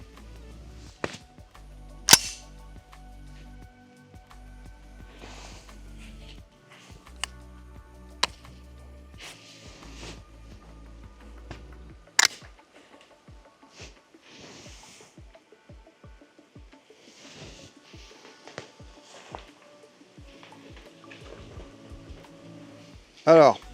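Semi-automatic hunting gun being handled and checked at a hunting-licence practical exam in Seine-Maritime: a series of sharp metallic clicks and clacks, some loud, spread through the clip over low background hum.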